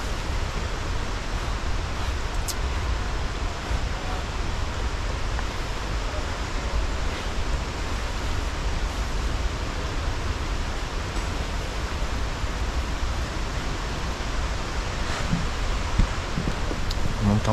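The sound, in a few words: waterfall, Kuang Si Falls, Laos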